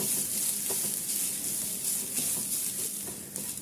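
Grated coconut, rice, urad dal and cumin roast together in a pan, giving a soft, steady sizzle with a few faint stirring scrapes, close and quiet with no talking.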